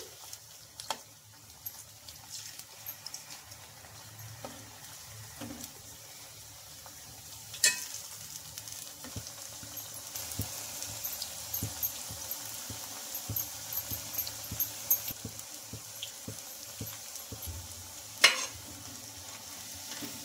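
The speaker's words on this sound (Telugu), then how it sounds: "ఇలా మనం తిప్పుతూ ఇంకా 2 వైపులా మంచి కలర్ వచ్చే వరకు అయితే ఫ్రై చేసుకోవాలి" Bottle gourd punugulu fritters frying in oil and being turned, a soft continuous sizzle with scattered light scraping and clicks of a utensil against the pan, one sharper knock near the end.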